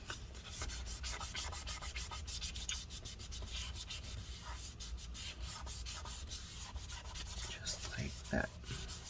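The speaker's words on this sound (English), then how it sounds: "get some rubbing alcohol on there, and then we're just gonna buff out the residue here" A folded paper towel dampened with rubbing alcohol buffs adhesive residue inside a late-2013 13-inch Retina MacBook Pro A1502, making steady, close, rapid rubbing strokes that continue without pause.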